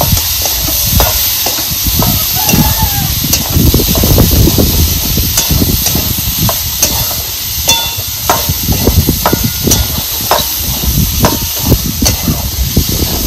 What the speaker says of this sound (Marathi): आपण ही चवळी का नाही परतून घेतलेली